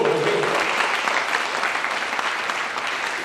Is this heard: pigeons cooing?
no